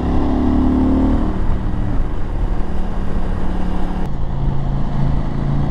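A KTM 890 Adventure R Rally motorcycle fitted with a Wings exhaust, riding on the road with a steady, loud, continuous engine drone, the pitch holding fairly even with a slight shift partway through.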